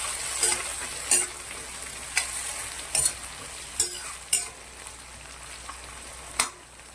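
Chillies and curry leaves fry in hot oil, giving a steady loud sizzle broken by repeated sharp scrapes and clinks of a spoon stirring against the pan, about one every half second to second, with no voices.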